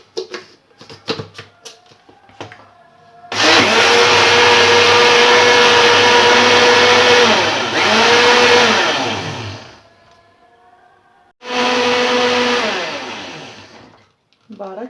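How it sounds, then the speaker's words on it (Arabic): A Moulinex blender whirs loudly as it mixes crepe batter with milk, running in a long steady burst of several seconds, dipping briefly, then stopping before a second shorter pulse, with handling clatter before it. "وغادا نخلط هادشي كامل في المونينكس"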